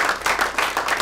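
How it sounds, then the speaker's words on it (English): A brief patch of applause, many hands clapping in a quick, uneven patter at moderate volume. "Let's give a big round of applause for our 2 national EMTs"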